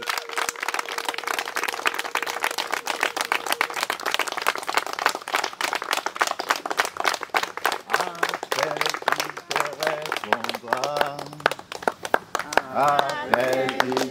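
A church congregation at a baptism service claps in a steady rhythmic beat, loud and close, for a sustained stretch while a voice speaks and singing rises over the applause.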